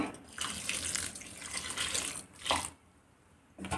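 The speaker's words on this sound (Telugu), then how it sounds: "కొన్ని నీళ్ళు వేసుకుందాము" Water pours steadily into a pot at close range to melt jaggery, a splashing rush that pauses briefly and then starts again.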